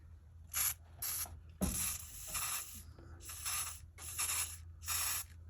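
A mechanical timer from a GE dryer turned by hand, giving repeated ratcheting clicks in six or so short bursts, close up and fairly quiet with no talk.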